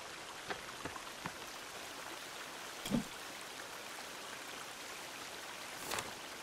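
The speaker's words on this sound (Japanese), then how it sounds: "水の音。" Water runs and rain falls in the game The Forest: a soft, constant wash of noise with a few isolated drops and light taps scattered through it.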